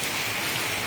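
Rain falls steadily outdoors at a house, a continuous broadband patter and hiss with no break or talking over it.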